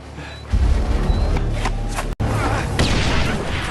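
Dynamite explosion in a film, with a sudden heavy boom followed by rumbling debris noise, a sharp cut and more rolling blast noise, loud and close.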